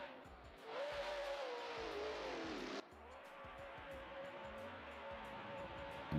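Race cars including Mustangs and BMWs lapping Tokachi International Speedway in Japan during drift series qualifying, a sustained engine drone rising and falling in pitch with tire squeal, heard from a distance and steady throughout.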